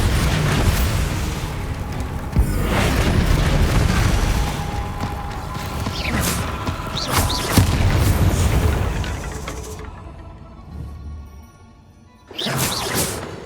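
Bombarda explosion spell cast in Hogwarts Legacy: several booming blasts with whooshes over dense game effects, a brief lull, then one more loud burst near the end.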